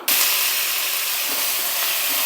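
Loud, steady sizzling and hissing of onions frying in hot oil, starting abruptly and continuing without a break.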